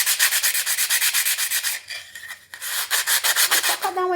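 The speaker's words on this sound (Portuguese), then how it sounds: "Aqui eu tô usando uma lixa 80, que ela é bem grossa." Coarse 80-grit sandpaper rubbed hard over wood in steady back-and-forth strokes, loud and close, with a brief pause midway before the rhythmic scraping resumes.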